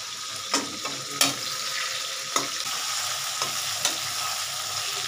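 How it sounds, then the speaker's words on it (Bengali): Chilli chicken sautéing in a pan after black pepper goes in: a steady sizzle with a handful of sharp spatula scrapes and clinks spread through it, and no voices. "ব্যাস, এই গোলমরিচটা আমি এখানে ঢেলে দিচ্ছি। এবার আরেকটু সাতলাই।"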